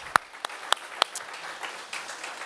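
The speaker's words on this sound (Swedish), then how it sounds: "En applåd." A few people clap sparsely after a talk on building and managing rental housing, with several sharp, separate claps that trail off into scattered, softer ones.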